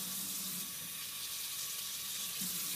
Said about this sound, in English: I'll rinse you off.